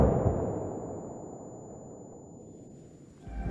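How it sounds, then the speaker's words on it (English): A close explosion in the military game Arma Reforger, triggering a temporary-deafening tinnitus effect: a heavy muffled boom decays slowly under a thin, constant high-pitched ringing tone, ending with a brief rumble. "a tinnitus effect if an explosion is too close, causing temporary deafening"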